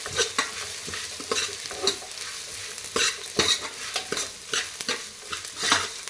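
Sprouted horse gram frying in a tempering, a quiet steady sizzle broken by repeated sharp scrapes and clinks of a spoon stirring against the pan, close up with no talking.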